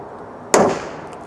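A single sharp pop from a live ammunition primer treated with Ballistol in a deactivation test, a short bright crack that quickly decays, with otherwise quiet surroundings.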